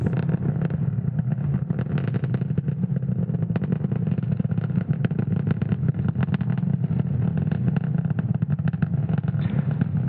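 A SpaceX Falcon 9 rocket climbs after liftoff from Cape Canaveral at night, a continuous low crackling roar that stays loud and steady throughout, with no voices.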